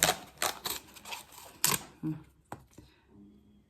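A collagen powder sachet torn open by hand, a few sharp crinkling rips and rustles of the sealed paper packet, close and fairly quiet, with soft handling noises after.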